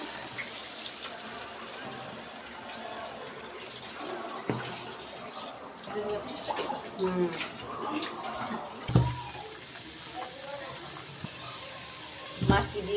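Water poured into a cooking pot of spiced taro stems for a fish curry, a steady splashing wash with a few louder clunks and splashes, close and fairly loud.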